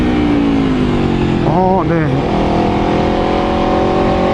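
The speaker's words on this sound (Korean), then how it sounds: "제가 브레이킹을 한번 해볼게요." An Aprilia RSV4 RF sport motorcycle with Brembo brakes runs loudly nearby, its engine note dipping and wavering briefly as it brakes, with a short spoken word over the steady engine drone.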